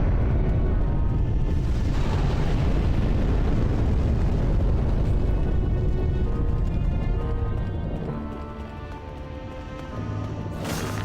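Fire blast in the video game Demon's Souls, a long roaring, crackling rush of flame and rumble that stays loud for several seconds, then eases slightly before rising again.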